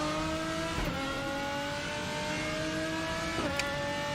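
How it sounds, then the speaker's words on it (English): A race car engine in the RaceRoom racing game screams at high revs around the Zandvoort circuit, a steady, loud whine broken by two quick gear-shift dips, with no talk. "this is one of those cars which really showcases the beautiful sounds of RaceRoom"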